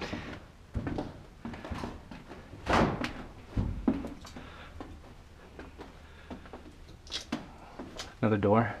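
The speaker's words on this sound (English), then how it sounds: "Another door." An old door in an abandoned mill swings open or shut with a few knocks and thumps, close by and moderately loud, amid scattered handling noises and brief bits of talk.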